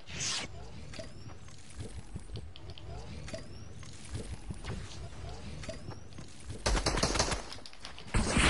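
Rapid gunfire in the video game Fortnite, bursts of sharp shots crackling steadily through the clip with a few heavier blasts near the end, under a voice.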